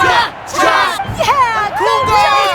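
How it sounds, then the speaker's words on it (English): Crowd of spectators in Genshin Impact cheering at a hot air balloon contest, loud close-up shouts and whoops from many voices rising and falling in quick bursts. "And the crowd goes wild!"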